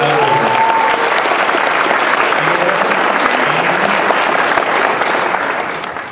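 A large crowd at a Walking Dead comic book panel at Comic-Con 2012 bursts into loud, dense applause, sustained close and full before tapering off at the end, with faint voices mixed in.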